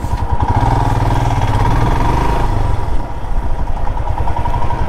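A motorcycle engine idles steadily and loudly at a roadside dhaba on a bike trip toward Shimla, with a low, even rumble and faint clatter for the whole stretch and no talking.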